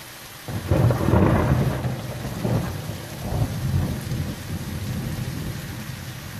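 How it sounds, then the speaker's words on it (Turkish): Thunderstorm with heavy rain in Sivas, Turkey: a loud rumbling thunderclap rolls in after half a second, followed by lower thunder swells over a steady, close wash of downpour. "Meteoroloji hafta boyunca Sivas'ta sağanak ve gök gürültülü sağanağın etkili olacağını bildirdi."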